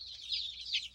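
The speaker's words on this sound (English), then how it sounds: "Look at our big rooster." Chickens and a big rooster on a small farm give soft, nasal clucks in two short bursts, close by and fairly quiet.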